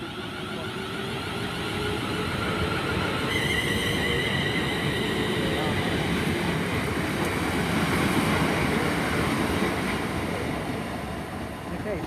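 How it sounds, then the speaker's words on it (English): A British Rail Class 350 electric multiple unit pulls away from Coventry station, a steady, moderately loud rumble and rising motor whine that swell and then ease slightly as it departs, with a voice talking over it. "And there goes 350 126. And as that departs out"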